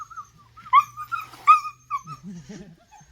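A dog whimpers and yips during a rabies vaccination, giving several high, wavering cries in short bursts close by, with a lower whine near the end.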